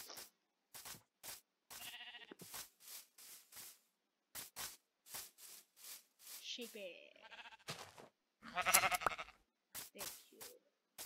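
Sheep in a video game give short bleats interspersed among many brief clicks and sounds, faint overall, with louder bursts near the end, while a player speaks.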